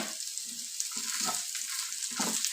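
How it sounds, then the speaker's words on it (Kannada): Cinnamon, cloves, cumin, fennel, black pepper and poppy seeds frying in a pan, a faint steady hiss of sizzling oil with soft scattered stirring scrapes. "ನೆಕ್ಸ್ಟು ಇವಾಗ ಚಕ್ಕೆ ಮತ್ತು ಲವಂಗ ಮತ್ತು ಜೀರಿಗೆ ಸೋಂಪು ಕಾಳುಮೆಣಸು ಗಸಗಸೆ ಇಷ್ಟನ್ನು ಹಾಕ್ಕೊಂಡು ಸ್ವಲ್ಪ ಫ್ರೈ ಮಾಡ್ಕೊಳ್ತೀನಿ"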